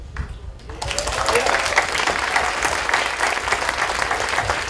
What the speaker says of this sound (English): you guys can go ahead and stop me and clap about any of this stuff that I'm talking about